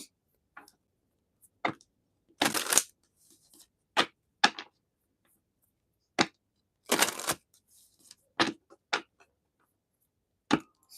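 Sharp, papery slaps and riffles of tarot cards being shuffled, several bursts spread irregularly across the recording in a quiet room.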